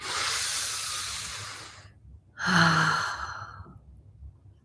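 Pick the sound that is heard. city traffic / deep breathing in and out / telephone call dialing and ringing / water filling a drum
deep breathing in and out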